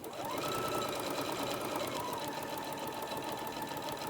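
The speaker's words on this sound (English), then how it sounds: "I like to go a little bit slower so I make sure I'm sewing straight." Sewing machine stitching a tote bag at a slow, steady pace, its motor running continuously with a constant whir for several seconds, near and alone without talk.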